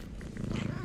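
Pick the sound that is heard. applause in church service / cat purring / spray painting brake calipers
cat purring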